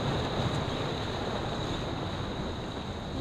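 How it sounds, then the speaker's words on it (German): Stormy Baltic Sea with metre-high waves surging against the promenade, heard as a dense continuous roar of surf and wind buffeting the microphone, loud and unbroken throughout. "Da kommt gerade wieder eine größere Welle."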